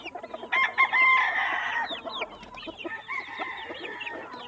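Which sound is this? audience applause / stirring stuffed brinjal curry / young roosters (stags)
young roosters (stags)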